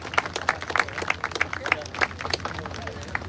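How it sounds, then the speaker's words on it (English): An audience round of applause at the finale of a tank weekend show, with dense, uneven clapping and scattered cheers from a crowd close by, continuing throughout. "can we give each other a round of applause"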